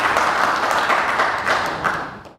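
Audience applause at a Hindi talk event, a dense wash of many hands clapping steadily for about two seconds before fading out.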